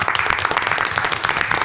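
An audience at a French talk show claps to greet a guest in a short, dense patter of applause. The level rises and falls slightly over under two seconds.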